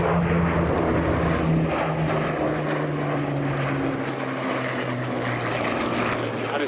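A propeller-driven monoplane with a closed cockpit flies past at an airshow, its engine producing a loud, steady droning hum with a strong low tone that persists throughout, with no talk audible.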